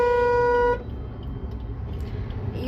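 A car horn blares in one long, steady honk that cuts off abruptly, leaving the low rumble of idling engines in a Delhi traffic jam.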